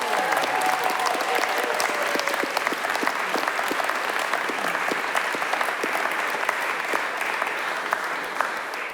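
Sustained audience applause filling a hall at a reunion event for the English Collective of Prostitutes sit-in, greeting Selma James. The clapping is dense and steady, with a few whistles or cheers near the start.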